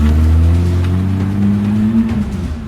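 A cartoon car in an animated series pulls away as its engine drones loudly and steadily, the pitch rising slightly as it drives off, alone with no talk.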